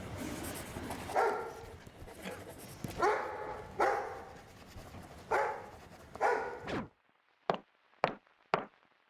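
A dog, Dogmeat from the Fallout games, barks in a run of loud, roughly evenly spaced barks against steady background noise, then gives three sharp, isolated barks after a sudden silence.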